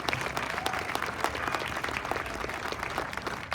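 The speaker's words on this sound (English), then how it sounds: "let's give them another round of applause" An audience applauds steadily at an outdoor municipal band concert in Great Falls, a dense wash of many hands clapping from a moderate distance, sustained at an even level throughout.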